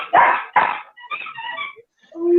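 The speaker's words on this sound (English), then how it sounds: "He's gonna bark." A dog gives two loud, close barks, followed by softer yips and whimpering sounds, then a brief whine at the end.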